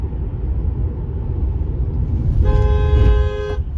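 A 2021 Tesla Model 3 Long Range sounds its horn, a single steady honk lasting about a second, sitting over a low road rumble from the car in motion.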